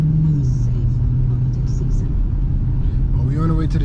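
Audi S5 driving on the road, a steady low engine and tyre rumble throughout with someone talking over it.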